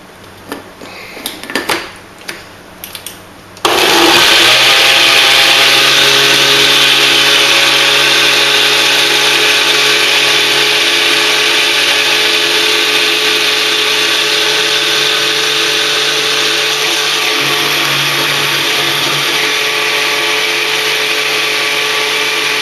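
Banh Xeo batter with coconut cream is mixed in a blender. A few clinks and knocks come first, then the motor starts suddenly and runs as a loud, steady whirring drone for about nineteen seconds, with no voices.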